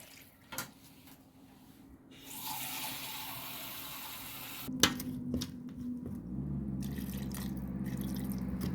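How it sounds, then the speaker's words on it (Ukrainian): Water splashes into a pot of potatoes in a steady pour for a few seconds, followed by clinks and a filling, bubbling wash of water close by. "Зараз додавлю водички."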